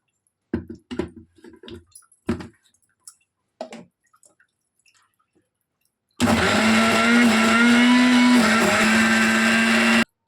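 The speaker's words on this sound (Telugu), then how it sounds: "ఇప్పుడు మిక్సర్ని ఆఫ్ చేశాను" A few sparse clicks and knocks, then a mixer grinder starts up and churns butter with cold water loudly and steadily, a continuous motor whir with a churning rumble.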